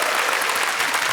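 Studio audience applause at a KBS television variety stage show, a brief, dense burst of steady clapping filling the room without any voices over it.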